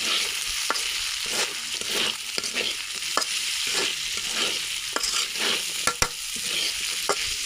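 Masala and chopped fried beef pieces sizzle steadily in a pan for biryani, with regular stirring scrapes and clacks cutting through the close, continuous frying hiss.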